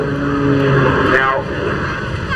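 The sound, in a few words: jet-powered Pitts aerobatic plane at an airshow display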